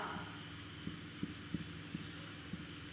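Chalk or marker taps and strokes on a board as numerals are written during a basic maths lesson, faint and quiet, with a few sharp ticks spaced under soft room hum.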